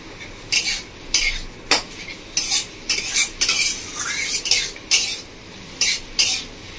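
A paneer paratha filling with green chilli being stirred in a pan over a medium flame, with repeated sharp scrapes and clinks of a spatula against the metal and a faint sizzle, no talking.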